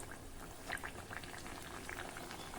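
Oil heating in a pan for frying Shegaon-style kachoris gives off a low, steady bubbling seethe with a few faint pops and crackles, fairly quiet and close, with no voices.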